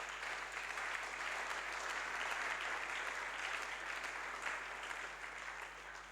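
A church congregation applauds the Lord, steady sustained clapping from many hands filling the hall for several seconds and easing slightly at the end.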